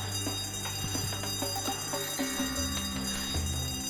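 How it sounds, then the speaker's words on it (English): Fire alarm ringing in a video game, a steady metallic bell ring with repeated clangs under a busy game soundscape, fairly loud and continuous with no talking. "A fire alarm."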